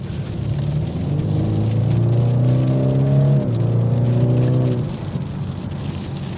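A 2024 BMW 430i Coupe with a twin-scroll turbocharged engine drives steadily, its close, loud engine hum rising in pitch as it pulls, then settling, with road and wind noise around it.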